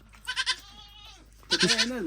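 Goats bleat nearby, a wavering cry opening and another loud, quavering bleat near the end, with a faint voice and quiet background between.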